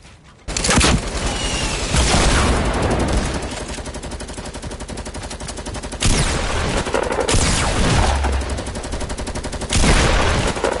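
Loud video game gunfire in rapid sustained bursts, automatic fire repeating with short breaks between volleys and heavy booming shots, close and dominant throughout.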